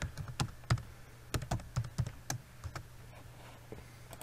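Someone types a password on a computer keyboard to decrypt a Windows system drive: a quick, irregular run of close, crisp keystrokes that slows and softens toward the end.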